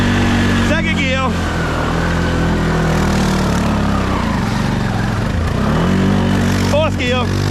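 Engine of a custom Honda Fourtrax 300 six-wheel ATV driving through mud, a steady loud drone running throughout with slight surges in pitch, while people talk over it at the start and end.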